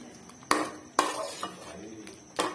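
A utensil scrapes and stirs chicken biryani gravy roasting in a pot, with a few sharp knocks against the metal rim and a soft sizzle between strokes.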